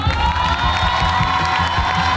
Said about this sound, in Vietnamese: Khán giả vỗ tay quá đồng nhiệt.